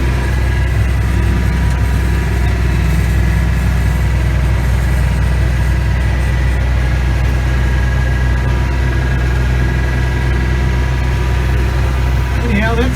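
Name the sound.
tractor engine idling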